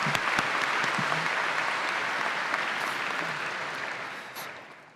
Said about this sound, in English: I want to give you all a round of applause for that.